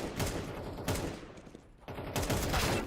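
AK rifle fire in a video game headshot deathmatch, sustained bursts of shots with a brief lull in the middle before firing resumes, steady and fairly loud.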